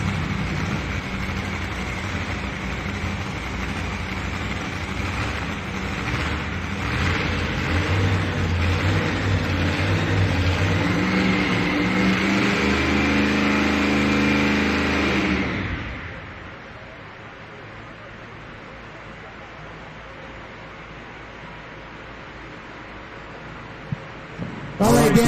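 A pulling truck's engine roars loud and sustained at a truck and tractor pull in Shelbyville, Tennessee, heard from the stands under a commentator's voice, then cuts out abruptly to quiet arena murmur.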